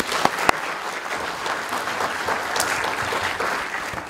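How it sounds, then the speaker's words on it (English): Conference audience clapping for a speaker, a steady burst of applause from a moderate-sized crowd with a few sharper individual claps standing out, heard alone with no talk. "So please put your hands together"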